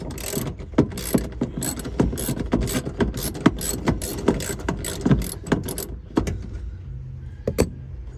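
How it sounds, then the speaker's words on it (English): A ratchet wrench clicks in quick, uneven bursts while working a fastener on a van's air-conditioning unit, the close, sharp ticks slowing and thinning out toward the end. "Change the direction on the wrench"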